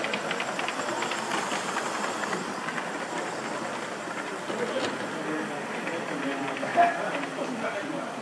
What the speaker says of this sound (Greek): Τούτον το μοντελούι που βλέπετε, λειτουργά με ατμό.